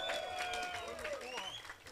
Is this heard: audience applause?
yes